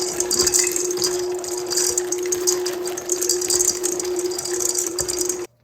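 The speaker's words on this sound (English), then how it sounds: "we have Ghirardelli Premium Baking Milk Chocolate Chips. And we put in the whole bag." A whole bag of Ghirardelli milk chocolate chips pours into cookie dough as a dense, continuous rattling patter, close and steady for several seconds before cutting off, with no speech.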